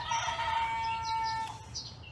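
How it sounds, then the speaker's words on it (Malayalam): A rooster crows once in a long, drawn-out, fairly distant call that holds steady before trailing off into faint bird sounds, with no talk over it. "പിന്നെ ഇത് എനിക്കും കോഴിയുടെ സൗണ്ട് കേൾക്കുമ്പോൾ"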